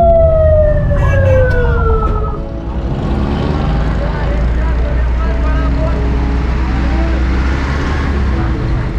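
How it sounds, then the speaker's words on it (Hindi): An ambulance siren on a city street in Karachi, its rising and falling wail sweeping clearly in the first couple of seconds, then fading into a steady rumble of traffic and engines, with talk heard faintly underneath. "लोगों के लिए ये एक मैसेज है कि खुदारा एम्बुलेंस सायरन दे रहे हैं, उसको रास्ता दें।"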